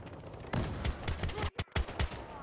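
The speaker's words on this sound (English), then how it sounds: "My gun just has a little bit too much recoil to spam the trigger and get them." Gunfire in Battlefield Hardline multiplayer, a quick run of loud close shots with brief pauses between trigger pulls, the rhythm broken by a short silent gap midway.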